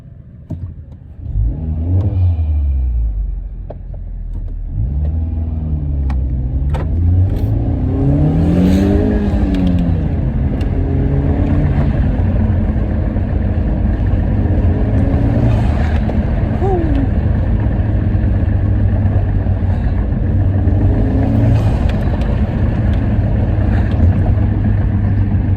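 A Honda Civic FK8 fitted with a PRL HVI intake revs repeatedly, its engine note rising and falling in several loud, close sweeps over a steady idle drone, with some voices in the background.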